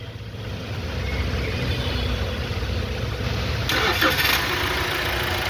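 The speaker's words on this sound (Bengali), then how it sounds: "এক সেলফে ইঞ্জিন স্টার্ট হচ্ছে" An MG Gloster's engine, just back from a timing belt change and major service, idles with a steady mid-range rumble, starting smoothly and running close by with no voices.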